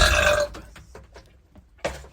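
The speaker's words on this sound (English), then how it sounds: "that was a good belch." A person lets out one loud, drawn-out belch close to the mic, followed by a softer gulp and then a second short burp.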